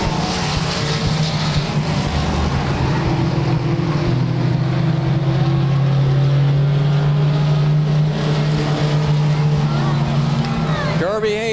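Race cars battle for the lead at Claremont Speedway during a 1996 weekly race, their engines a loud, unbroken drone that rises and falls slightly throughout, with voices over it.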